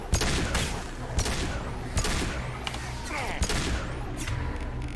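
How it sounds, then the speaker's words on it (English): Gunfire and sniper shots in a Mass Effect 2 firefight, a repeated burst of sharp loud cracks roughly every second over continuous battle noise, with brief voice fragments in the mix. "We're taking heavy fire, but we're on the move."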